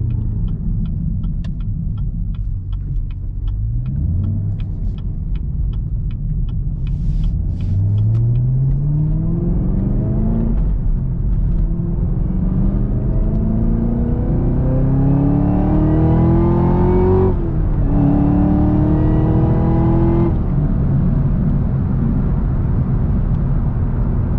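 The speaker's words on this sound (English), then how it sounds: "Listen to them downshifts." A loud Camaro ZL1 manual V8 engine revs and drops through several downshifts on a backroad, each rising pitch sweep ending in a blip, with a steady road rumble underneath.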